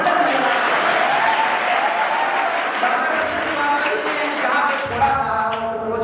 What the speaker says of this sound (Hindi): ताली बजा दीजिए, मैं बताता हूँ।